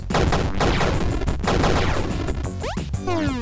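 Revolver shots in the pixel arcade game Super Crate Box, loud rapid cracks in quick succession amid busy game effects, ending with a few descending electronic zaps.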